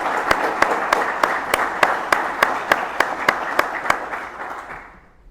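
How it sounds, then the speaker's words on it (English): Award recipients at a Border Patrol Academy graduation ceremony draw a hall full of steady applause, with one sharp, evenly spaced clap repeating near the front before the whole sound fades out at the end. "Please join me in giving the award recipients a round of applause."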